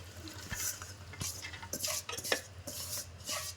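A spoon stirs soaked kurudgi into a spiced tempering in a pan, with a few sharp metal scrapes and clinks against the pan over a low background hum.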